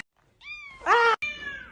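A house cat meows several times in quick succession, close and loud, with a strained, drawn-out middle cry between shorter calls, indoors in a quiet room.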